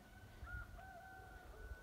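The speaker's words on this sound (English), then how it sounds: "The chickens are up" Faint, distant chickens call softly in a quiet outdoor setting in rural Patagonia, Aysén, Chile, with a thin drawn-out crow and low rumble in the background.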